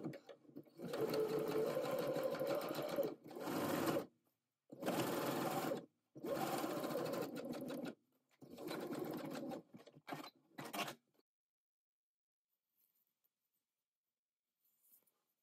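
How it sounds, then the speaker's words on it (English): A sewing machine runs in several bursts of rapid stitching as it sews close to a dress seam with a zigzag stitch, each run lasting one to two seconds with short pauses between, followed by quiet. "stitching close to the seam"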